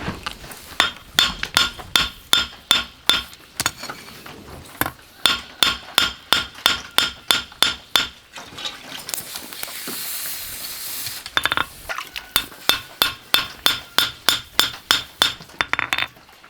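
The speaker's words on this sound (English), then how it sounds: "I'm going to get the anvil and the hammer wet so I can start blowing off some of that scale" A hammer planishes a hot knife blade on a wet anvil. Fast, loud metallic strikes ring out in rhythmic bursts of ten or more blows, with a short hissing pause of steam and scale between the series of blows.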